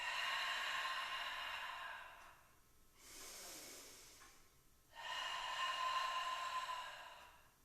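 Breath during a Pilates breathing exercise: a long, soft hissing exhale through the mouth, then a brief quieter breath, then another sustained exhale, close and gentle under faint background tone.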